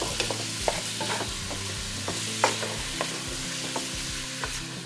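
Meat fries in butter in a pot with a steady, close sizzle, broken by occasional light clicks and scrapes of stirring, no voices.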